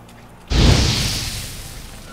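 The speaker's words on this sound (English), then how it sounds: "Now for a shot of Igni." Igni fire sign cast in The Witcher 3: a sudden loud whooshing burst of flame that swells at once and then slowly fades into a roaring hiss.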